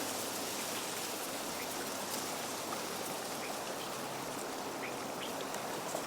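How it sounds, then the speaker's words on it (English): Dry dead stalks of tall dogbane rustle against reed canary grass at a riverbank in the breeze, a steady, even hiss that fills the whole stretch without pause, fairly close and unbroken by voices. "last year's dead stalks whisper and rustle in the breeze, brushing against the dry stems of its neighbor, reed canary grass"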